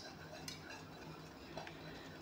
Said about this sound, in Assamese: এতিয়া কল আৰু কণীখিনি ধুনীয়াকৈ মিক্স কৰি লৈ ল'ম